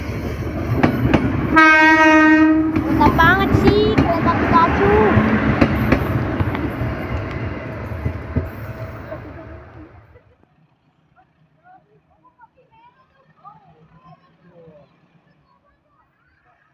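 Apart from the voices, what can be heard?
Pikachu-liveried train passing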